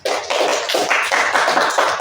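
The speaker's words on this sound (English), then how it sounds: "Give applause to group two." Classroom applause for a student group during a micro-teaching session, a short burst of close, uneven hand clapping from a small group that starts abruptly and stays fairly loud throughout.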